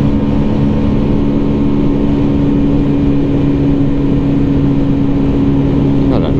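Keeway V Cruise 125 motorcycle ridden on a highway, its engine giving a steady, loud drone with a constant hum under strong wind noise, unchanging throughout.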